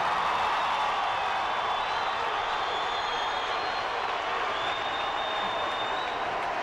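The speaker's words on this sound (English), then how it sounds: "Listen to this crowd." A high school boys' basketball crowd in a gym roars during a timeout, a dense, sustained wash of cheering and applause heard from a distance and holding steady throughout.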